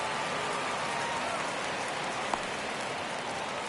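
Steady rain hiss in a baseball video game set during the 1971 playoffs between the Mets and Cardinals, a soft continuous wash of falling rain with a brief tick partway through.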